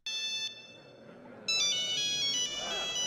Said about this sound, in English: we started to get like the little Motorolas and stuff, this was the ringtone that just